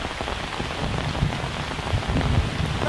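Steady rain pattering down among bamboo leaves outdoors, a dense continuous hiss with heavier drops thudding close by throughout, no voices.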